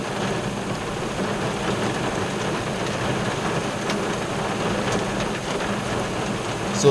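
Heavy rain pours down steadily during dredging work in the rainy season, a dense unbroken hiss of downpour close by with a faint low rumble beneath, no voices.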